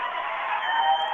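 Applause from a studio audience rolls on as an unbroken, thick patter of clapping hands, fairly loud and even throughout the brief stretch, with no speech on top.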